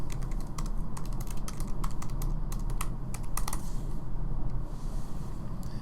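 Fingers type a name on a computer keyboard in a quick run of close, crisp key clicks that thin out near the end, set over a steady low room hum.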